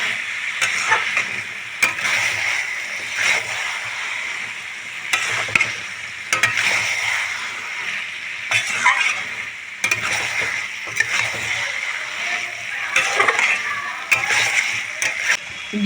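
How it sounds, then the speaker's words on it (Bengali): Banana flower curry being stirred in a pan after garam masala is added: a continuous close sizzle broken by repeated scraping strokes and soft splattering, with no voices. "আমি খুব ভালো করে পুরো তরকারিটার সঙ্গে মিশিয়ে নেব গরম মশলা"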